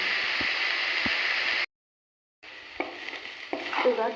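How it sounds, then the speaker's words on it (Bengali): Banana stem coated with turmeric frying in a wok, a steady broadband sizzle with a few soft stirring knocks, broken by a brief pause before the hissing resumes with scraping. "এইভাবে থোড়টাকে আমি 2 থেকে 3 মিনিট ভেজে নেব।"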